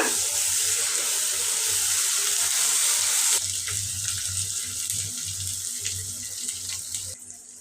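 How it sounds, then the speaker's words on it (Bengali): Water pours steadily into a hot pan of spice paste with ginger paste, hissing loudly and then settling into a softer bubbling sizzle. "আমি এখন একটু পানি দিয়ে মশলাটা কষাবো"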